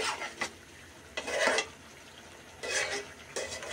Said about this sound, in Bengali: ধনেপাতা কুচি দিয়ে আমি মিক্স করে দিচ্ছি একটু।